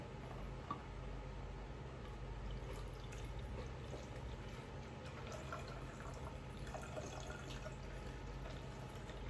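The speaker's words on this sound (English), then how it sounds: "Then we'll be putting some water on it." Water is poured into a plastic bottle in a tabletop science demonstration, a faint steady trickle and drip that runs for several seconds under low room hum.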